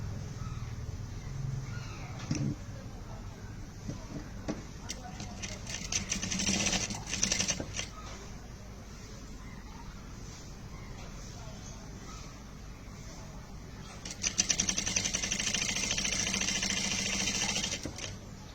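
A sewing machine stitches a skirt seam in bursts of rapid mechanical whirring, with quieter pauses between runs, while someone talks over it.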